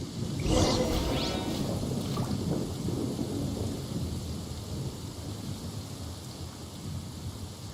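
Thunder rumbles through a storm scene in the video game Genshin Impact, a sharp crack near the start giving way to a steady, loud, broadband roll that sustains without speech.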